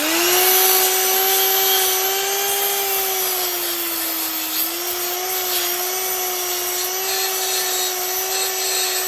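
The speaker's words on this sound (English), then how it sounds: "Made a start using a finger sander to sand it down" A steady high-pitched whine of a finger sander running continuously on a metal motorcycle inlet manifold, with a rough scraping hiss underneath, close and loud, no talking.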